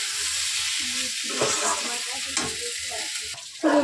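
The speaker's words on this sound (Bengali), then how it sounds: "এবার এর মধ্যে একটু জল অ্যাড করবো।" Curry sizzles and fries steadily in a pan, with a dense, continuous crackle and hiss that flares in short bursts near the end as more hiss rises, with no talk over it.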